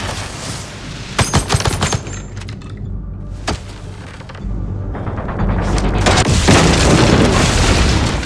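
A triggered trap explosion in an action film: loud booming blasts with deep rumble and crackling bursts, continuing as a heavy roar through the scene.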